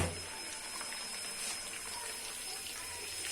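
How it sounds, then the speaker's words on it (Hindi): Fish frying in a pan for Lahori fish fry: a steady, soft, even hiss of bubbling oil continues throughout at low volume, with no clear voices over it. "साथ में हमारी फिश भी फ्राई हो रही है"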